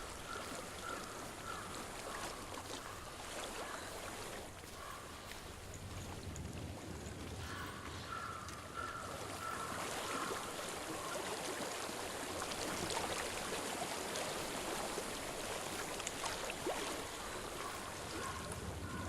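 A stream flows through a landscape in the video game Hellblade: Senua's Sacrifice. The rushing water is a continuous, soft broadband wash that swells slightly toward the middle and stays steady, with no talk over it.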